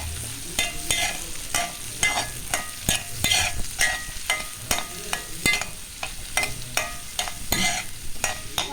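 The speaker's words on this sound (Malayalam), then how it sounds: "ഇതിലേക്ക് നമ്മൾ സബോള ഇട്ട് കൊടുക്കുകയാണ് ഓടങ്ങാതെ വേണം വരെ നമുക്ക് ഇളക്കിക്കൊണ്ടിരിക്കാം" Sliced onions sauté in a hot pan for a paneer curry. A spatula scrapes through them in a steady, rhythmic stirring over a constant close sizzle.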